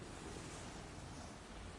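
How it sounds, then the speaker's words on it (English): Ocean waves in a storm roar as a steady, dense wash of surf, with wind rushing over it. The sound is continuous and fairly loud, with no voices. "the noise of the waves."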